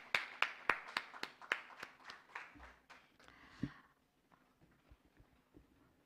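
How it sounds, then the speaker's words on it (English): Faint audience applause at an HR conclave on impact hiring in Pune: a brief run of evenly spaced, distinct claps from only a few hands that quickly dies away, leaving near quiet with a few scattered taps. "May I invite Ms. Deepa Wadhwani with a big round of applause"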